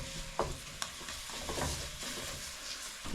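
A spoon stirs garlic into a sizzling deer sauce piquante base, with scraping strokes and soft clacks over a constant frying hiss, close and alone.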